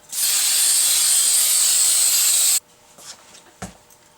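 A loud, steady hiss of an aerosol spray can runs for about two and a half seconds, then cuts off, leaving faint rustling and a soft clack.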